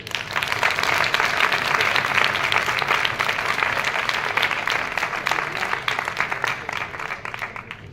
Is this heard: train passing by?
no